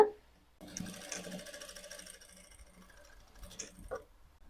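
A sewing machine stitches blouse fabric for a boat-neck blouse, a quiet close mechanical rattle of the needle in short runs with small clicks and pauses.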